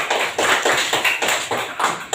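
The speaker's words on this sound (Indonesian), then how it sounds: "Oke, tepuk tangan." A primary school class claps hands together in steady rhythmic bursts, about eight sharp group claps in a couple of seconds, close and lively with no talking.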